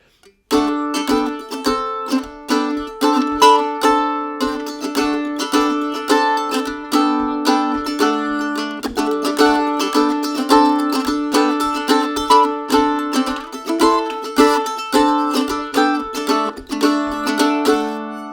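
Mandolin chords from a tune, bright tremolo-like repeated strums in a quick steady rhythm, close and even, with no talking.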